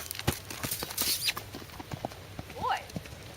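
Horse hooves walking on an arena surface during a riding lesson, giving a steady clip-clop rhythm of fairly faint, near hoofbeats, with an instructor's voice and other lesson sounds over them.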